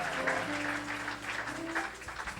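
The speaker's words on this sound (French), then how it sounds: "Pouvons-nous acclamer pour le Seigneur?" A church congregation applauds together in a sustained, dense wash of clapping that stays steady and fairly loud throughout, with a low hum beneath it.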